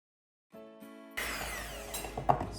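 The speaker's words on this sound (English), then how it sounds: "You're whipping the cream." An electric mixer whips cream with sugar for a peach cake, starting with a low motor hum that jumps to a loud, steady whirring buzz with a few brief scraping bumps near the end.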